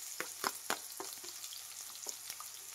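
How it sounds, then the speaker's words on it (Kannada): Onions and dried chillies fry in a pan with a soft hiss and scattered sharp crackling pops, fairly quiet and close. "ಫ್ರೈ ಮಾಡಿ"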